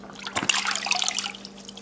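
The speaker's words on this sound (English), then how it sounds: "we're gonna wash it out and get all of the seeds out that are floated to the" Water trickles and splashes while bell peppers are rinsed and their seeds washed out, a close, irregular patter of drips and small pours under a faint steady hum.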